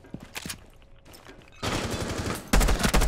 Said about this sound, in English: Oh no, that was a dead body I was shooting at.